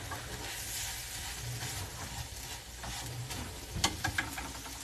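Kimchi fried rice sizzles in a pan while being stirred, with a steady soft frying hiss broken by scraping strokes and a sharp clack near the end, close and without talk.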